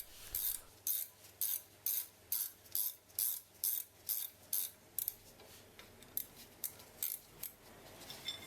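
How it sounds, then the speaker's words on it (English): A 12mm spanner ratchets out the brake caliper mounting bolts on a 2008-on Ford Fiesta Mk7, giving a steady run of close, even metallic clicks that turn quicker and more irregular toward the end, with no talking. "Hold the slide pin steady with a 19mm spanner and remove the mounting bolts with a"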